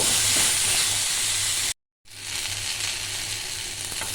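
Loud, continuous sizzling of vegetables and drumstick pieces frying in a pan up close, interrupted once by a brief moment of silence.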